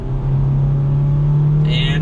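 A 2022 Honda Civic LX accelerates mildly in normal mode, its engine a steady, moderate hum heard from inside the cabin with little change in pitch.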